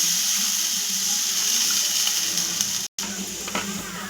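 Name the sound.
water poured onto sugar in a pan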